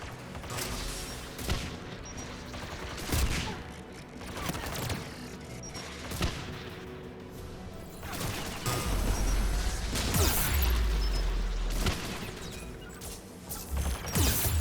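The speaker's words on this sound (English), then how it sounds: "AA guns ahead of us." Anti-aircraft guns in a video game pound away in repeated bursts of sharp, heavy reports, with crashing impacts and a rolling low boom that thickens toward the end.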